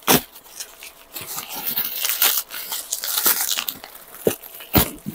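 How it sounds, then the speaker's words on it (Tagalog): Close crinkling and crunching of packaging and bubble wrap as a parcel is slowly opened by hand, in irregular bursts of rustling with short pauses between. "Ayan, meron pa siyang bubble wrap."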